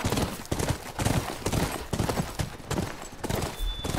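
Horse hooves galloping in The Last of Us Part II: fast, continuous rhythmic clip-clop at a close, moderate level, with a dense run of beats and no talk.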